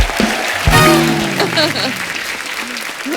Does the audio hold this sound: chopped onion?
no